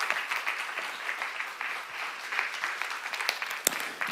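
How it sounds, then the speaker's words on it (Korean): A church congregation claps together in steady, moderately loud applause that carries on for several seconds, with a few sharper claps near the end. "믿는 사람 박수 주세요"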